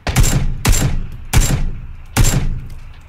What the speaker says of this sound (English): Fired twice, hit him in the head.